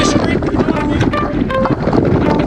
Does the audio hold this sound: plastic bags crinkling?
no